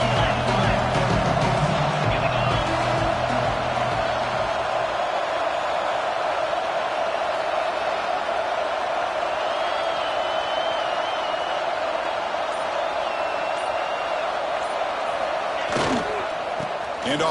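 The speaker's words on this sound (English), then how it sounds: "This crowd is trying to inspire this defense to make a big red zone stop." A college football stadium crowd roars steadily to urge on the defense during a red zone stand, a dense, sustained wall of noise that holds for the whole stretch, with a brief sharp thud near the end.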